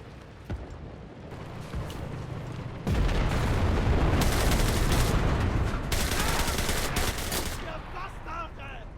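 Sustained automatic gunfire from an MG13 machine gun in the WWII shooter game Enlisted, loud and dense with overlapping bursts and booming explosions, quieter at first and then a continuous heavy barrage.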